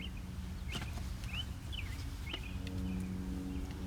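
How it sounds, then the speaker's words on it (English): Birds chirp outdoors, a few short rising tweets repeating at a distance over a faint low background hum, quiet and sparse. "Hear the birds?"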